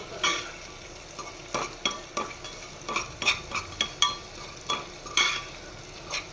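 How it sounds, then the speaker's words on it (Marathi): Tempering spices for dal khichdi sizzle in a hot pan while a spoon repeatedly scrapes and stirs in a loose rhythm, close by with no voices. "मस्त अशी फोडणी आपण ही परतवून घेतो आहे"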